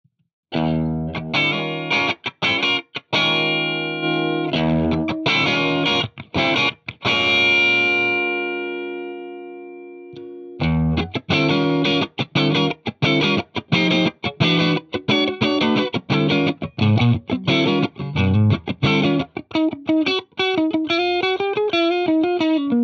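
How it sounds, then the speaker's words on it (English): Electric guitar played through the Axe-Fx III analog compressor block, notes sustained and evenly squashed, with a brief pause near the middle before the picking resumes. No voices. "Another new feature is this analog compressor block"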